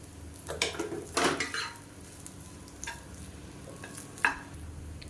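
Spoon scraping and stirring through vegetable masala rice in a pan, a few louder bursts of clinking and scraping over a faint sizzle, quiet and close.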